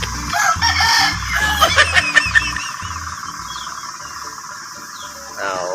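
A fighting cock crows loudly and close by, followed by clucking, with a softer call trailing off near the end.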